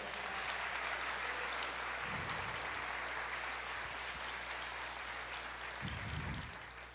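A church congregation applauding during a sermon, with continuous, even clapping from a large crowd, fairly distant and steady, plus a couple of low thumps underneath.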